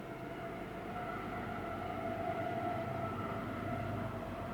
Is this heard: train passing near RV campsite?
yes